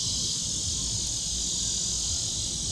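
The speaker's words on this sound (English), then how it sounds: "they still utilizing the cicadas to make as much noise as possible." Cicadas buzz loudly and steadily outdoors, a dense continuous high drone that fills the whole stretch without a break, with low rumbling beneath it.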